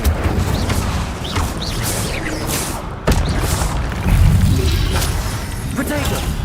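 Incendio fire spell cast in Hogwarts Legacy, a booming magical burst over a dense wash of crackling game effects, with a sharp cut near the middle and a heavier surge shortly after.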